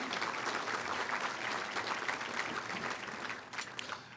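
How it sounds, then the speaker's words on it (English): An audience at a business hall of fame ceremony claps in a dense, continuous burst for about four seconds, moderately distant and tapering slightly toward the end. "Yes, you can applaud that if you want to."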